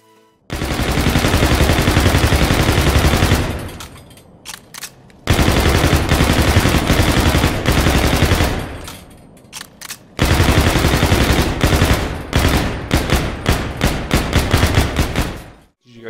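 MacTav-45 from Call of Duty: Infinite Warfare firing in three loud, sustained automatic bursts, each a few seconds long, with short pauses and single trailing shots between them.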